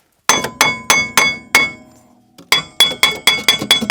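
A hammer strikes a wheel hub on a Holden Captiva in two quick bursts of sharp metallic blows, roughly five hits each, ringing brightly with a short pause between bursts.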